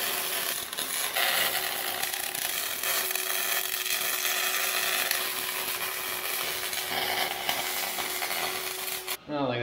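Steady metalwork on a homemade quick-attach snowplow as a bracket is welded on, a continuous buzzing, crackling drone with a faint hum running close and constant for several seconds, cutting off abruptly at the end.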